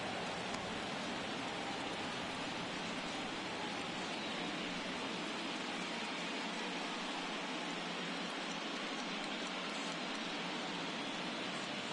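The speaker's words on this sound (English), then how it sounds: "It's been raining since the start of this game. Steady but not so heavy." Steady, moderate rain falls at a baseball video game, a continuous soft hiss of drops that stays even throughout, with no voices.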